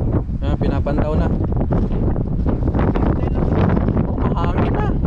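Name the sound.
wind blowing on a fishing boat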